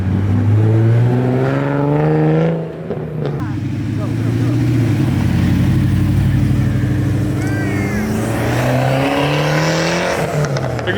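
A ProCharged Pontiac GTO muscle car accelerates hard nearby, its loud engine note rising and falling through gear changes and staying strong for the whole stretch.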